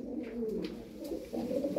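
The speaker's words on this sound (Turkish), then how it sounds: "13 tane kuş. Bir kutu dolusu süt beyaz." Milk-white crested tumbler pigeons coo softly nearby, a few low throaty murmuring phrases in a short burst with no talking.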